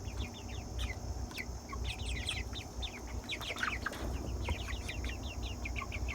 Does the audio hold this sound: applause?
no